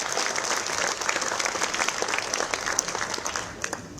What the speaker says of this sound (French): on applaudit très très fort le commandant Colin